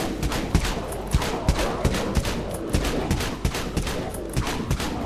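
Dual Broncos shotguns fire in rapid succession in the Dead Frontier video game, a steady stream of sharp, punchy blasts about twice per second, fairly quiet and continuous with no talking.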